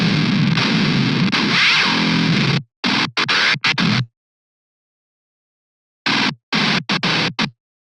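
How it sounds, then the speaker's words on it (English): Heavy metal guitar chugs run through a harsh phase distortion effect, a sustained gritty blast followed by choppy stuttering bursts, a silent gap, then another cluster of short, aggressive chugs. "I think that's all we need from the phase distortion."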